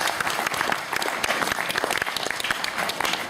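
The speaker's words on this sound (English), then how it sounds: "I like that we clap for the IMS Act today." Audience at an anniversary celebration event breaking into applause, a loud, dense spread of individual claps with sharp transients continuing steadily from start to finish.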